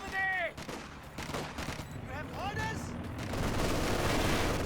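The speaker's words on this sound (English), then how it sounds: "Rifle grenade being fired." Weapon fire from a Company of Heroes 2 battle, a rifle grenade launched amid dense gunfire, with bursts and crackling shots over a continuous rumbling battlefield din, loud and busy throughout.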